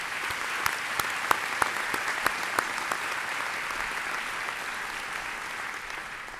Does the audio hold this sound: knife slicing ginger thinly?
no